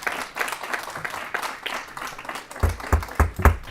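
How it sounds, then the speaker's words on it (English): Scattered hand clapping in a legislative committee hearing room, a brief ripple of applause that grows louder and sharper toward the end. "we've asked for no applause"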